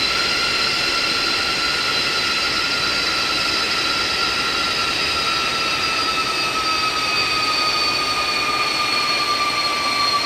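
Boeing 747-200 freighter jet engines whine steadily while taxiing in the X-Plane 12 flight simulator, a loud continuous drone with high tonal whistles that slowly drift downward, with no speech over it.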